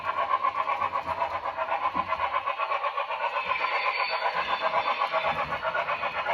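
Model locomotive sound decoder producing chuffing at a high speed step, the chuffs unsynchronized with the motion, a steady, fairly loud rapid pulsing hiss of even beats running throughout with no talk.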